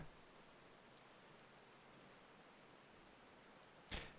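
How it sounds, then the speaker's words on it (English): Rain falls in a video game, a faint, even hiss of steady drizzle throughout, ending with a brief louder burst of noise. "Amidst the sound of falling rain, your voice called from within."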